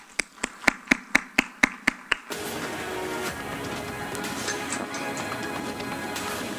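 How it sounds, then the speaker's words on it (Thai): At a Thai keynote lecture, about eight crisp, evenly spaced claps ring out first. A broad, sustained round of audience applause follows and carries on to the end. "ขอเสียงปรบมือหน่อยนะคะ"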